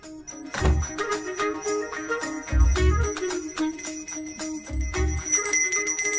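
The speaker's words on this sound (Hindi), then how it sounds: "मुझे जल्दी आओ बोल के यहाँ पर घंटी बजा रहे हो।" A bell rings repeatedly on its own in a tense horror setting, bright metallic strikes recurring in bursts with low thumps beneath, fairly loud and close with no voices over it.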